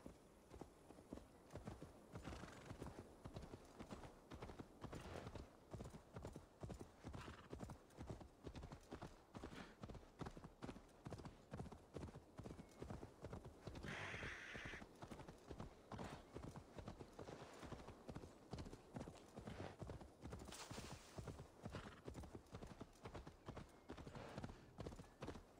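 Steady rhythmic clip-clop of horse hooves on a hard path in Assassin's Creed Valhalla, quick and continuous throughout, with a brief chime-like tone partway through.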